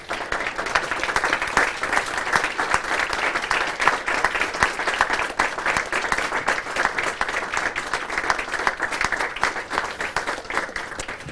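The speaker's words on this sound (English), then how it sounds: "I want you to give them a big round of applause," Audience at a Royal College of Surgeons diplomate ceremony applauding in a hall, a dense, even wash of many hands clapping continuously at moderate loudness.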